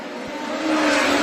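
Midget race cars of a POWRi National Midget League field roar off the green-flag start at Coles County Speedway, a dense, steady engine drone that swells louder partway through.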